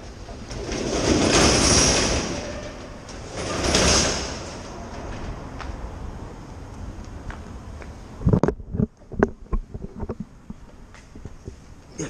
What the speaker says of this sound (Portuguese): Deixa eu abrir a porta.